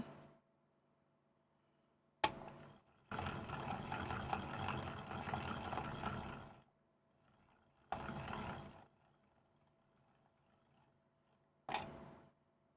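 A small yarn ball winder winding a 200-gram ball of yarn makes a faint, intermittent whirring rattle in several bursts, including one long stretch of about three seconds, with quiet gaps between them.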